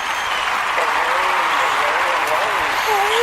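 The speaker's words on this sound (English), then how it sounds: "Give her a round of applause for KJ Peeples" A studio audience gives steady, continuous applause for special guest KJ Peeples on a talk show, loud and sustained throughout, while a voice talks over the clapping.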